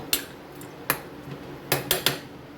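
A lid goes onto a pressure cooker of chicken curry with a run of sharp metallic clinks and clatters, some spaced apart and others in a quick cluster, close and clear.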